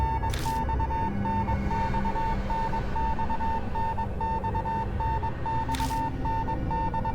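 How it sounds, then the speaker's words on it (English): A steady electronic beep repeats in an even pulsing pattern over a low droning hum in the horror game Death Mark, loud and continuous, with two brief hiss-like bursts cutting in. "The beeping becomes gradually louder, almost as if it's trying to tell me something."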